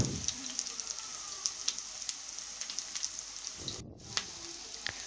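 Onions and garlic paste frying in about half a cup of hot oil, a steady close crackling sizzle with scattered sharp pops that briefly dips near the end before resuming.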